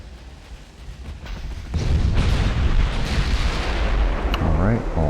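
Heavy naval guns from warship turrets boom in Ultimate Admiral: Dreadnoughts, a quiet rumble giving way to a loud sustained roar of salvo fire that rolls on to the end.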